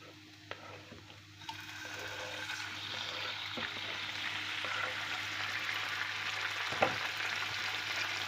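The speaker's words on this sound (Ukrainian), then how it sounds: "На цю сковорідку розігріту також я виливаю і ще одну столову ложечку олії і погружаю сюди печіночку" Chicken liver sizzles as it lands in hot oil in a heated frying pan, the broad crackling rising after a couple of seconds and holding steady, with occasional sharper pops and clicks; no voices.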